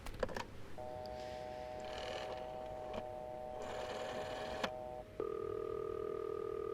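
Telephone dialing in the video game This Bed We Made: a few sharp clicks, then steady touch-tone beeps in short bursts, ending in a longer ringing tone, heard on its own.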